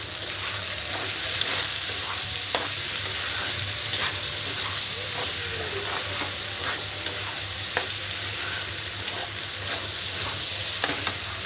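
Pasta tossed with masala in a pan, stirred and fried under a steady close sizzle, with frequent scraping strokes of the spoon against the pan over a constant frying hiss; no talking.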